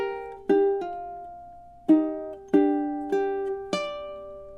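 A ukulele plays a slow phrase from a Scarborough Fair solo, about six clear plucked notes ringing and decaying in a close, quiet setting with no voice.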